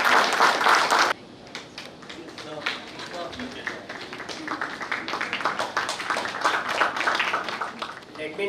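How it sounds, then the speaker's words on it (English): A summit audience of chartered accountants applauds a welcomed speaker: a brief loud burst at the start, then a long run of dense, steady clapping that swells toward the end. "Let us welcome CA Preeti Savla with a big round of applause."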